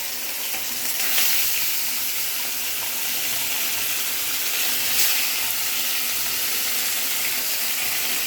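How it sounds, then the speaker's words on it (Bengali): Small parse fish frying in hot oil in a wok, a steady broadband sizzle with a couple of brief louder bursts as pieces go in, close and continuous with no talking. "তো দেখো, আমার কড়াইতে তেলটা গরম হয়ে গেছে। আমি এবার মাছগুলো এক এক করে দিয়ে দিচ্ছি।"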